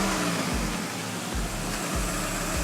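A carburetted engine runs at around 800 rpm idle with a steady, throbbing note and regular low pulses, close and loud for the whole stretch.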